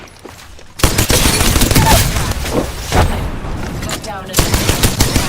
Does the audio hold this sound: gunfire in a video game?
yes